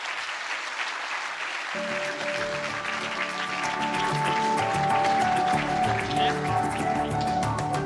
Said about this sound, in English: Again, I think we can give him a round of applause